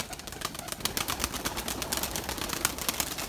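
Young Erzurum white pigeons take to the air outdoors, producing a rapid, fairly faint flutter of wingbeats mixed with soft bird sounds, with no voices.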